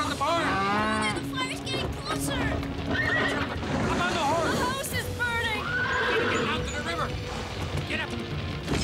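Cattle mooing and horses neighing in a burning barn during a fire, panicked animal calls overlapping with clip-clopping hooves and shouting voices, loud and continuous with a busy, chaotic background.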